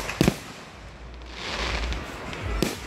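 Outdoor fireworks in South Haven, with a sharp bang at the start and another near the end, separated by rumbling, crackling booms that echo at a distance.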